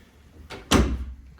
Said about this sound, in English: Huge closet door.